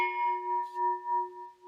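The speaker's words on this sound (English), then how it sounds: "Oh, here's my gong." A small gong struck once, ringing with a sustained, slightly wavering metallic tone that hums steadily throughout, close and clear with no talk.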